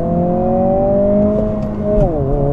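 Engine note of a 2024 Honda Civic Si with a manual gearbox rising under throttle, a loud close whine that climbs steadily and then dips and rises again as the car accelerates.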